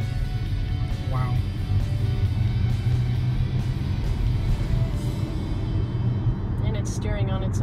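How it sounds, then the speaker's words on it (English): A Tesla pulling away and driving itself on Autopilot, giving a steady low road rumble and motor hum that runs throughout, with people talking and exclaiming inside the cabin. "The car takes off on its own."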